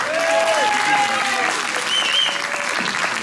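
An audience claps at a live concert in Anor, a steady wash of applause with whistle-like and sung tones and voices running over it.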